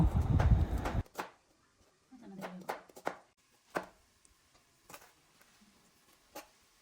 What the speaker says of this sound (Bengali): তরকারির জন্য আমরা পেঁয়াজ, মরিচ কেটে নেব।